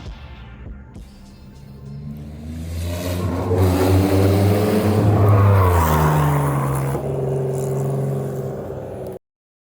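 An RWB Porsche 911, a Phase 2 build, roars past in a flyby, its engine note swelling loudly as it approaches, peaking at mid-pass and then dropping in pitch as it pulls away before cutting off abruptly.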